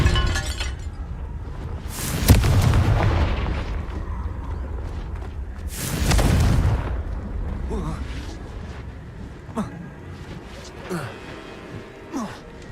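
Confringo spell explosions in the video game Hogwarts Legacy: two loud, booming blasts a few seconds apart, each trailing off in crackling debris, amid other game sounds and a voice.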